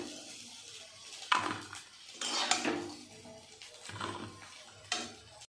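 Golden-brown fried soybeans scraped out of a pan into a metal pot, with a few loud metallic clanks and scraping of a utensil against the cookware in separate bursts.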